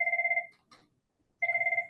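A telephone rings with a repeated electronic trill, two bursts loud and close, separated by a short gap with a faint murmur.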